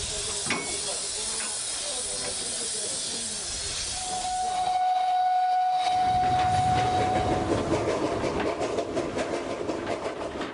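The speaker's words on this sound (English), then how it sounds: "The train carries lumberjacks up the Văju Valley to work the heavily forested hillsides." A mountain logging train in Romania's Văju Valley rumbles and hisses along steadily, with a long whistle note sounding partway through over the clatter.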